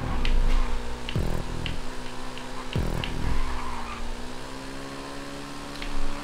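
A custom Turismo supercar drives in the video game GTA V, with a steady engine drone, brief tire skids and two sharp impact bursts about a second and a half apart.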